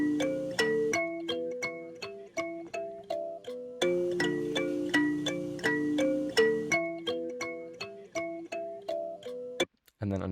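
A kalimba plays a bright, plucked melody of many quick, chiming notes in a steady pattern, each ringing briefly, with no voices.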